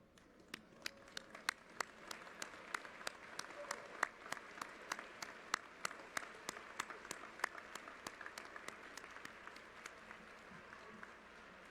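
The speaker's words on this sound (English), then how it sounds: "please stand to give each other and yourselves a standing ovation" An audience rises for a standing ovation at a University Day ceremony, steady applause with many hands clapping in a sharp, even rhythm throughout, fairly distant and consistent without voices.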